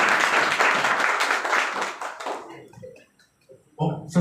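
An audience claps at a business-plan meeting, a loud burst that fades out after a couple of seconds, followed by a brief quieter stretch and a short renewed patter of clapping.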